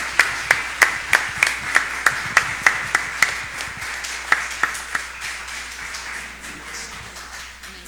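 A church congregation claps in unison during a women's service, a dozen or so loud, evenly timed claps that loosen into scattered, fading applause.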